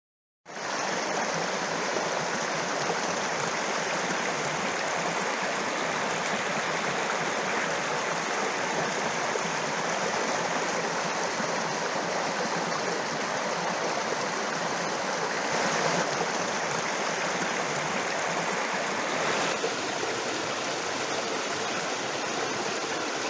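A brook in the Green Mountains rushes steadily, a constant broadband wash of flowing water with no pauses, filling the whole stretch at an even level.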